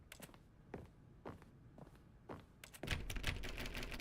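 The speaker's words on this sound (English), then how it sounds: "Why does it make a keyboard sound effect every time I press the interact key?" Keyboard clacks sound in a video game each time the interact key is pressed: single sharp taps at a steady, spaced rhythm, then a denser flurry of clicks, fairly quiet and heard without talk.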